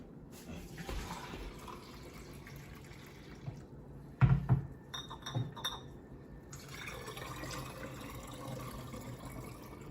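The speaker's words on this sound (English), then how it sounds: "You'll see that I start with a good pour, and then it suds up, and I stop" Kombucha poured into glass bottles, with liquid streaming and fizzing softly before a cluster of sharp glass clinks and knocks mid-way, then a steadier pour resumes; faint and fairly close.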